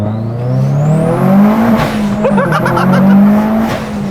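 A turbocharged Subaru WRX STI engine revs loudly and steadily, its low drone rising and falling in pitch, with whining tones climbing on top as it accelerates.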